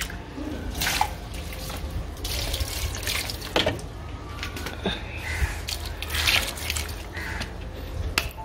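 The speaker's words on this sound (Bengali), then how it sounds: "তাই এখন কি করছি, এই জলটাকে দিয়ে এখন গাছে দিয়ে দেবো।" Stored water is poured onto plants: a faint, steady splashing trickle with scattered drips and small knocks throughout.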